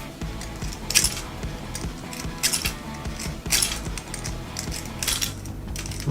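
Lock cylinder held in a vise is picked with a tension wrench, giving light metallic clinks and jingling scrapes in short bursts, close and fairly loud, with no talking.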